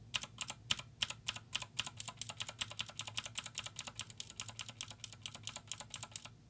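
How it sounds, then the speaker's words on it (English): Close-up, steady typing on a SnowFox 60 percent keyboard with green mechanical switches: a fast, even stream of sharp clicky keystrokes, soft in level, with no voices. "Green switch."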